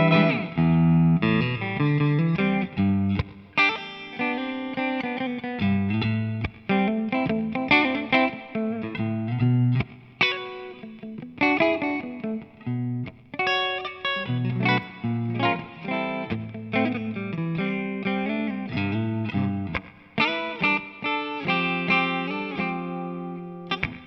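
A Taylor guitar played through a Vox Night Train 15H G2 valve amp head on a crunchy setting: strummed chords and picked notes ring with mild overdrive, close and steady, with no talking.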